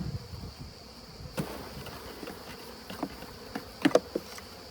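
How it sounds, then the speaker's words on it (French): Buckfast honey bees buzz faintly around a hive frame, a low steady drone with a few brief louder passes near the end and no talking. "Ça va tomber les abeilles."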